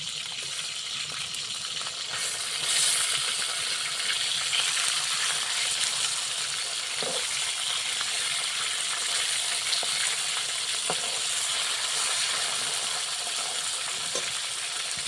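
Tilapia fish frying in oil, browning to red, with a steady close sizzle throughout and occasional sharp clinks and pops; no voices.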